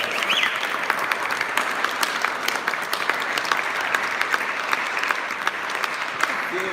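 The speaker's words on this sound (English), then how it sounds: "Round of applause for all of our wonderful speakers tonight." An audience at a keynote event in Washington DC claps steadily and fairly loudly, a dense, even wash of applause that holds without pause from start to finish.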